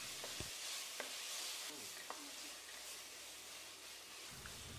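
Chopped mint and coriander leaves are stirred in a frying pan for a biryani, with a soft steady sizzle and a few light spoon scrapes and clinks against the pan.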